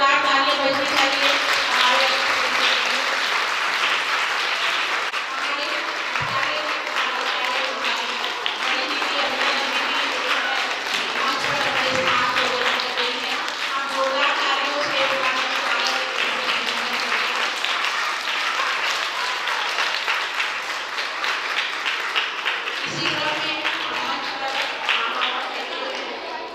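Children in an audience at a traditional theatre event applaud loudly for a guest on stage, a dense sustained wash of clapping lasting nearly half a minute, with voices mixed in.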